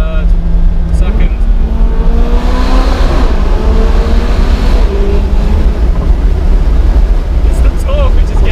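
A McLaren 570GT engine revs hard while downshifting inside a road tunnel, loud, close and reverberant, with rising and falling pitch sweeps and a steady roar throughout; people talk over it.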